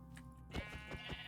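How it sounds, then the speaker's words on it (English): Sheep in Minecraft give a few short, wavering bleats, close and clear over a steady background tone. "but we found some sheep"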